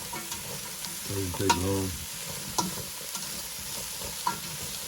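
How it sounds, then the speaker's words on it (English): Carrots, celery and onions sautéing in a pot for chicken stew, a soft steady sizzle with a few light scraping taps. Someone speaks briefly in the middle. "Carrots, celery, and onions. Saute them up for a few minutes."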